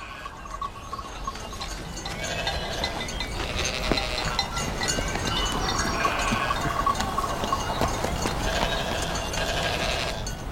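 A flock of sheep bleats repeatedly at a farm field, overlapping calls near and far over a steady rustling din, with faint clinks like bells mixed in.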